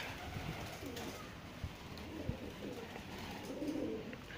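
Domestic pigeons coo softly after landing, low murmuring calls against faint outdoor background noise, with a slightly louder coo near the end.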